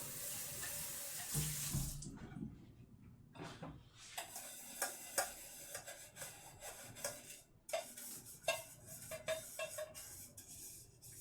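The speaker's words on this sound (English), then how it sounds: "Let's give you a rinse out since I have rice in here." Tap water runs and splashes into a pan with rice in it as it is rinsed out at a sink, with scraping and swishing from the pan nearby.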